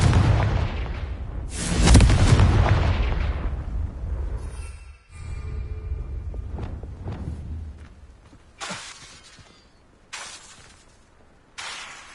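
Confringo fire spell cast in Hogwarts Legacy: a heavy booming blast swells and rumbles for a few seconds, followed by several sharper, fainter crashing bursts spaced apart.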